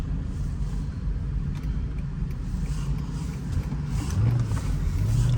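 A 2005 Mercedes-Benz SL500 on freshly fitted Neomax coilovers rolls along the road, with a steady low engine and road rumble heard from inside the cabin that swells slightly toward the end.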